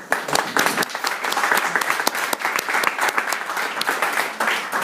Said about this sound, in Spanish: Para los aplausos.